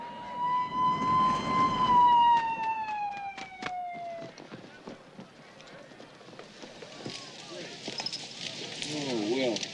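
An ambulance siren wails in a long descending tone, loud and near at first, then fading as it moves off among scattered knocks and street bustle in a Mexican setting.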